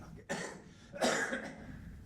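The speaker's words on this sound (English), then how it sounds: "I have a little bit cough, so maybe I have to apologize before I got more coughs." A couple of muffled coughs from a speaker during a conference lecture, close to the listener but quiet and rough, one right after the other.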